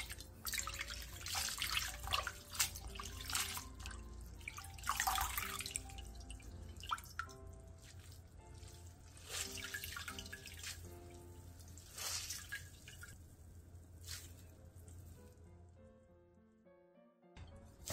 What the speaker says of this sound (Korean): 10분 뒤 미역줄기를 물에 한 번 더 헹궈낸 뒤 물기를 꼭 짜서 준비해주세요